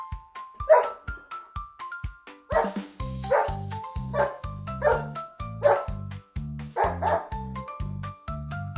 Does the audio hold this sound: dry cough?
no